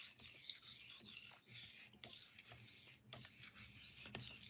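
A knife is drawn in equal back-and-forth passes on a diamond sharpening stone, a quiet, close, dry rasping scrape repeating in an even rhythm, no voices.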